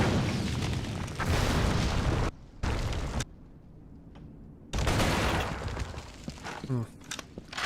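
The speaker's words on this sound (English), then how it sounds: "That is a grenade." Grenade explosions in a shooter video game arrive as loud, booming bursts. Between them come sharp cracks and brief quiet gaps, and a voice talks over the chaotic combat.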